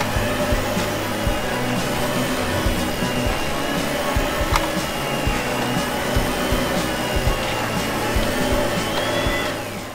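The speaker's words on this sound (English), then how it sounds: "And, yeah, a vacuum." A vacuum cleaner runs steadily at an indoor children's playground, a loud continuous motor whine and airflow roar lasting throughout with a faint tone drift near the end.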